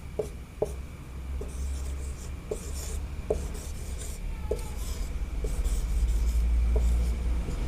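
Pen or pencil writing the word trigonometry by hand on paper, a soft scratching with small taps as each letter is formed, steady and close throughout with faint background hum.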